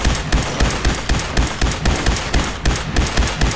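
Righteous Authority laser rifle firing in Fallout 4, loud rapid bursts of sharp energy shots in an even repeating rhythm, close and dominant throughout with no voices.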